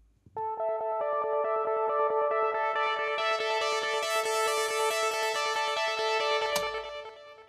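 A bright synth part plays unfiltered, with no high-cut around 8 kHz, so its top end stays open and crisp: sustained, layered chord tones ring steadily with echo and chorus-like effects for about seven seconds, ending in a sharp bright transient.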